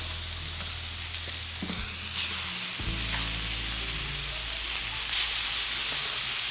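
A bacon chipotle smash burger sizzles steadily on a Cuisinart griddle, a broad, even frying hiss with a low hum beneath and a couple of brief knocks partway through.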